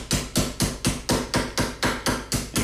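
A hammer forms the flange on a rear rib with about ten evenly spaced, loud, close metallic blows. They fall at a brisk, steady rhythm of roughly four per second.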